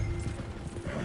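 Horses' hooves clip-clop steadily along a track in Red Dead Redemption 2, a brief rhythmic run of muffled hoofbeats close by under a low rumble.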